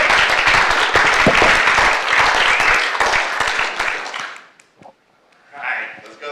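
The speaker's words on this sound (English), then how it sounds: "Just another round of applause." Audience applause at a space-exploration congress fills the room with dense clapping for about four seconds, then thins to scattered claps and fades into quiet before a voice speaks briefly.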